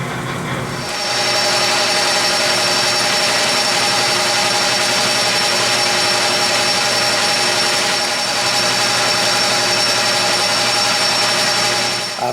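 A grinding wheel runs steadily against a metal workpiece at a fixed feed rate during a wheel-balancing setup, giving a loud, continuous whine with a rough, hissing edge that holds unbroken from about a second in to the end.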